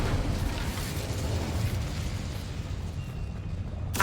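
An Incendio fire spell goes off in Hogwarts Legacy as a broad, rushing burst of flame with a booming roar that holds steady for several seconds, then gives way to a sharp crackle at the end.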